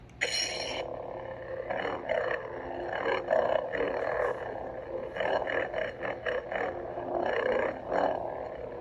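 A lightsaber hum using a Cal Kestis sound font from Jedi: Fallen Order on a Crimson Dawn saber core, growling and roaring, swelling and pulsing steadily for several seconds, loud and close, with no voices.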